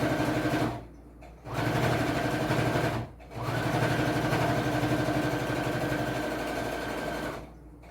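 A sewing machine fitted with a normal presser foot stitches fabric in a fast, steady mechanical whir, close up, stopping briefly twice before running on.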